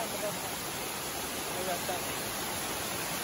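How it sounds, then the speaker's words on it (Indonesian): Waterfall at Goa Batee Meucanang in Labuhan Haji, a steady, dense roar of falling water that fills the scene evenly without pause, moderately loud and unbroken. "Ini air terjun yang pertama."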